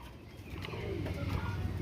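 Pigeons coo softly at close range, a low, murmuring call that rises slightly toward the end over a faint background hum.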